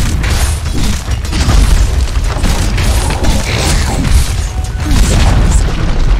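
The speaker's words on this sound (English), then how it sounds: "Dire's bottom tower has fallen" A tower being destroyed in Dota 2, heard as a loud, sustained rumble of deep booms and crashing blasts layered over game noise, continuous across the whole span.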